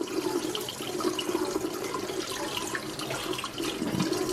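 Water running and splashing as sand and gunk are rinsed off a freshly dug clam at Netarts Bay, Oregon; a steady close wash with continuous spatter, no voices.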